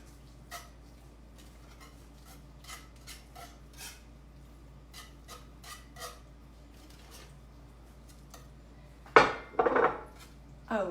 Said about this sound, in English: I'm going to add in our pre-cooked sausage and just give that a stir